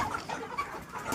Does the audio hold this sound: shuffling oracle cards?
no